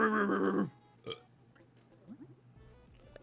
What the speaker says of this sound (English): That burp almost turned into something more than a burp.